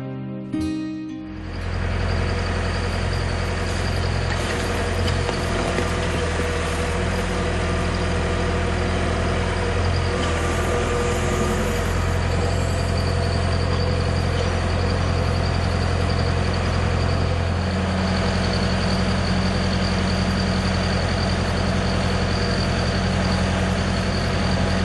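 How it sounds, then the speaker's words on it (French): A truck loaded with harvested reeds for roof thatching idles in the Camargue wetlands, giving a steady, close, low engine rumble that holds evenly for the whole stretch, with no voices. "C'est un camion qui va, oui, exactement, il va sur la Bretagne"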